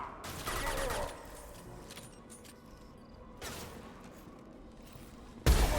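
Rifle fire in the sci-fi shooter Mass Effect 2: a sustained volley of shots for about a second, another burst partway through, then a sharp loud blast at the end, with quieter combat ambience between and no voices.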